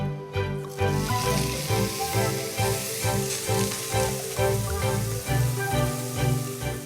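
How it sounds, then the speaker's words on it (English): Steak sizzling in a searing hot ridged pan, a steady crackling hiss held throughout beneath louder background music. "So expect quite a bit of sizzling when I put it in."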